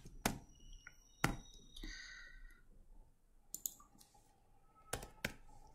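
Sparse keyboard taps and clicks sound close and quiet, coming in irregular bursts with pauses between keystrokes.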